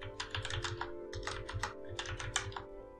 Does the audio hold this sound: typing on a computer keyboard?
yes